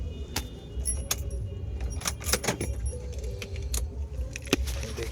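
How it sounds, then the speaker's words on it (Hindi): Keys jangle in scattered bright clinks as a person gets out of a car, over a low steady rumble, close and fairly loud, with no talking. "ठीक है, मैं अब गाड़ी से बाहर जा रहा हूँ।"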